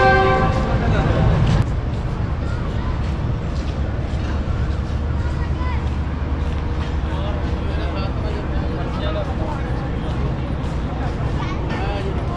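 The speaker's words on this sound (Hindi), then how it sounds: "38 डाउन फरीद एक्सप्रेस अब कंगनपुर रेलवे स्टेशन से रवाना हो रही है।" The 38 Down Farid Express leaves Kanganpur railway station in India. A loud horn blares for the first moment, then the train settles into a steady rumble heard from the platform.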